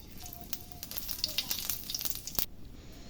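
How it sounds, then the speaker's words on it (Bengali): Oil sizzles and crackles in a hot wok as meat is about to go in, a steady close frying hiss with small spits, ending in a sharp burst then near silence. "কড়াইতে তেল দিয়ে দিলাম"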